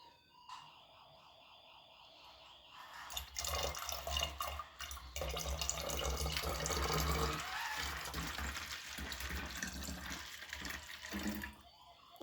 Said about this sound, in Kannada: ಈಗ ನೀರು ಹಾಕ್ತಾಯಿದ್ದೀನಿ.